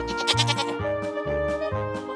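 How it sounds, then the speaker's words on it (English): A goat bleats in a quick series of loud, close, wavering calls layered over a bright, bouncy musical backing. "Cabra, goat."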